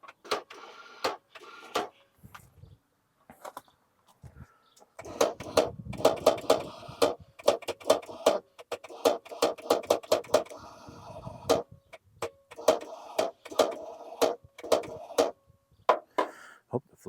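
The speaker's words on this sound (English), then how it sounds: "hear the starter spinning, but it's not engaging." The starter motor of a Ford Courier that sat for 30 years spins without engaging in repeated bursts of rapid clicking and whirring, separated by pauses.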